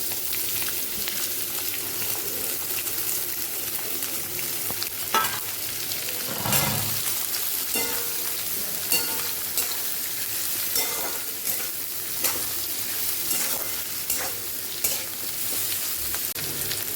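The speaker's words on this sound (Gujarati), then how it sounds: "આ બધું સાતળવામાં ઉમેરી દઈશું." Sesame seeds, curry leaves and hing sautéing in hot oil, heard as a steady close sizzle with scattered spatters and a few stirring scrapes, no voices throughout.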